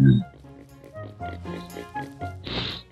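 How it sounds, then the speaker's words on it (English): Pig in The Legend of Zelda: Wind Waker HD giving short grunting oinks close by, ending in a sharper squeal, with a voice faintly present. "This pig went a lot easier than that freaking other pig,"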